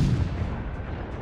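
Deep booming naval gunfire from a ship firing armor-piercing shells in World of Warships, near the cruiser Worcester. A heavy low rumble trails off over about a second, with no talk.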